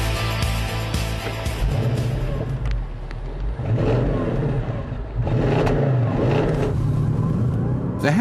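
Audi S7 Sportback with a V8 and seven-speed double-clutch transmission accelerating hard, the engine note rising loud and close through several gear changes.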